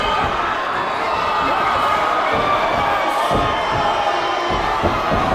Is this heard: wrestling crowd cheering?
yes